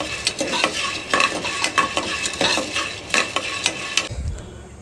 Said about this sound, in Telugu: ఈ విధంగా వేయించుకోవాలండి